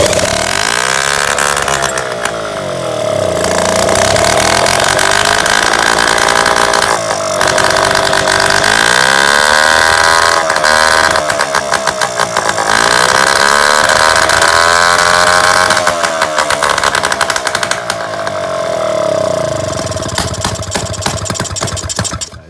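A rebuilt Solex 3800 moped engine, tuned to stage 2, runs loudly and close, its buzzing two-stroke note rising and falling through repeated revs and returning to idle.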